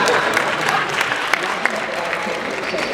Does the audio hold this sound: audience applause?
yes